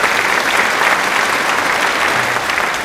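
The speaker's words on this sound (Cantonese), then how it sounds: "多謝師兄俾掌聲嚇" Steady applause from a small audience, loud and continuous for the full stretch without any talk over it, celebrating a Tudor watch purchase at a watch dealer's show.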